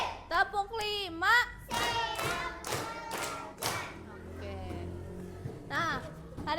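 A group of classroom children claps hands in a counting game, several loud clap bursts in quick succession amid children's chattering and shouting voices.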